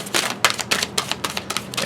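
Tarot cards are shuffled in quick, crisp riffling bursts, a rapid papery flutter repeating several times at close range.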